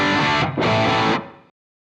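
A short burst of distorted electric guitar through a Boss Tube Amp Expander Core, dry and upfront with delays and reverbs off, with a brief gap before cutting off abruptly without any lingering tail.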